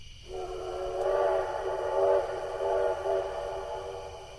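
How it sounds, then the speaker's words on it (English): A steam locomotive ghost whistle blown on the Cass Scenic Railroad, a single sustained chime-like tone that wavers slightly in strength, heard alone at moderate distance for several seconds. "the sounds of ghost whistles blown on the Cass Scenic Railroad as part of the 2009 Ghost Whistles"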